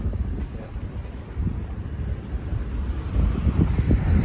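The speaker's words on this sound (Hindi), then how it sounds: "लेकिन विंड बहुत है।" Strong wind blows outdoors past the microphone, a constant rough rumble that builds in gusts toward the end, with no one talking.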